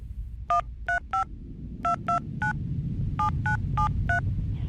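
A telephone number is dialed on a keypad, giving a quick run of distinct touch-tone beeps in small clusters over a low background hum, with no talking.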